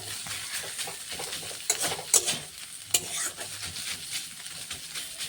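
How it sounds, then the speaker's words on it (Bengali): Pointed gourd leaves frying and being stirred in a pan, a steady close sizzle with a few sharper scrapes and clinks of the utensil against the pan. "শাকটাকে ভালো মতন করে ভেজে নিলাম। দেখো মূলো শাকের মতন পুরো কড়া কড়া করে ভেজে নিলাম।"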